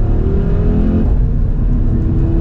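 A 2024 Audi RS3 accelerates in normal drive mode, its engine and exhaust roaring loudly and steadily from close by, with no talking.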